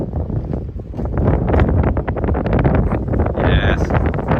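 Strong wind roars across the microphone inside the Arctic Circle in Alaska, a loud continuous gusty rumble with a brief higher whine near the end.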